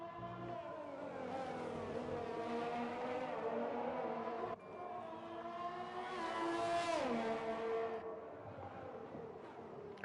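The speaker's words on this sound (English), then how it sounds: "Roman's Republic is on a fast lap in the Ferrari" Formula 1 car in the F1 2020 video game on a fast lap in a Ferrari, its high-pitched engine screaming loud and continuous, rising and falling through gear changes with a sharp downshift near the middle.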